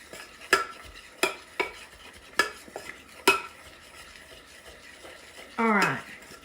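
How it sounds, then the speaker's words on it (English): A spoon stirs a mixture in a pot, sharp metallic clinks against the side at an uneven rhythm with soft scraping between them, followed by a brief fizzing rush at the end. "Now that I have that stirred up, I'm going to pour it over"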